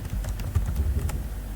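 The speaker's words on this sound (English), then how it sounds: "Now you begin to type this one out, Adewale" Keys clatter on a computer keyboard in a quick, close burst of light irregular taps, heard alone without talk.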